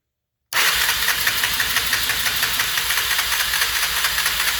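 A 1991 Honda 300 Fourtrax 4x4 ATV engine fires up after a year unused, then runs loud and close in a steady, slightly knocking idle with no voices.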